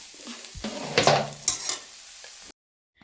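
Tempering of green gram for a traditional Kannada saaru sizzling in a pan while a spoon stirs and scrapes, with crackling bursts and clinks rising and falling before cutting off into silence.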